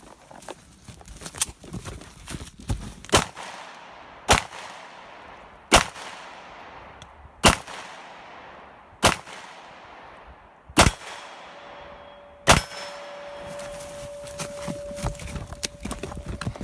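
A Luger P08 and a Walther P38 pistol fire about ten sharp, loud single shots spaced a second or two apart, each followed by a short echoing decay outdoors.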